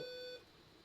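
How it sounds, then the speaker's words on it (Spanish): Electronic door sensor alarm on a digital electronics lab circuit gives a single steady high-pitched beep lasting about a third of a second, then stops, leaving a quiet background. "suena la alarma."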